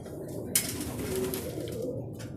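Racing pigeons coo at an outdoor loading station in Asuncion, Calamba, Laguna: low, rolling, throaty calls repeat close by, with a sharp click near the start and faint background voices.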